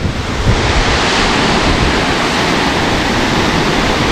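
A waterfall in the hills of Dolakha, Nepal, roaring as a dense, steady rush of falling water, loud and close, with no voices over it.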